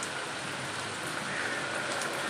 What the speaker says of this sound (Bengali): বৃষ্টি দেখা যাক বৃষ্টি কতক্ষণ হয়